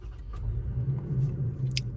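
Toyota Tacoma pickup truck engine idling just after start-up, a steady low rumble heard from inside the cab, with no voices.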